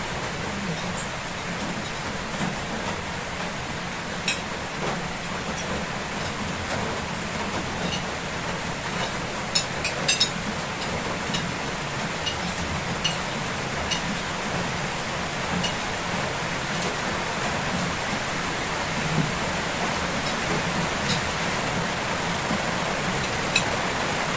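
Steady rain falls continuously with a dense, even hiss and scattered faint drips, a constant wash of sound throughout.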